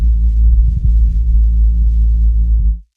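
A steady low-pitched hearing test tone hums loudly and evenly for nearly three seconds, then cuts off abruptly, with no voices over it.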